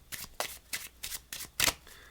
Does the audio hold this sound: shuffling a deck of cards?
yes